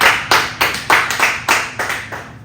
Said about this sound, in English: can we get a good clap real quick?